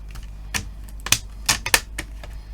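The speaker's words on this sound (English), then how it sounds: "clicking that back into place." Plastic clicks from the screen bezel of a Lenovo ThinkPad T430 laptop being snapped back into place after a 1600x900 panel swap, a series of sharp, close snaps in uneven rhythm over a quiet background.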